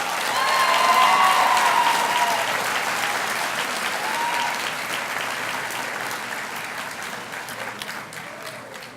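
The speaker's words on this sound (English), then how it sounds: "A huge round of applause for our staff" Applause at a graduation ceremony for staff, teachers and parents: a loud, dense crowd clapping that swells early and holds steadily for about nine seconds, with some cheering voices mixed in.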